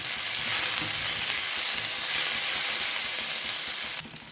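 Vegetables sautéing in a pan for a wheat adai, a loud continuous sizzle and crackle with faint stirring scrapes, cutting off sharply near the end.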